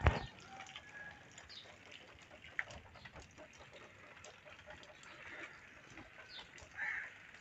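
Roosters crowing and clucking outdoors on a quiet morning street in Pakistan, a few calls near and far over soft ambient noise, with one louder burst at the start.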